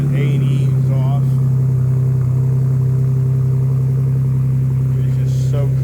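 A Ford Bronco fitted with an A&E exhaust idles with a deep, steady rumble that holds at an even level throughout, while a voice talks over it.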